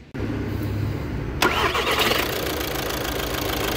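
A 2012 Volkswagen Jetta engine cranks and catches in a workshop, jumping to a steady, fairly loud idle after a short starter burst, with a low rumble holding alone to the end.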